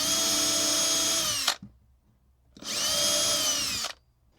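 A power drill drives screws through a hinge into a board for a Mini Cooper micro camper build, with two sustained whirring bursts about a second and a half each, separated by a brief pause, close and steady.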